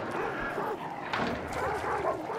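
Dogs in the video game Hunt: Showdown bark and yelp in short, irregular bursts, with whimpering tones over a murky background at moderate loudness.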